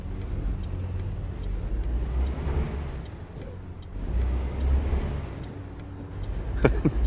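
A Kenworth truck engine pulls hard in American Truck Simulator, a steady low drone rising and falling with road noise, and a brief hiss near the end.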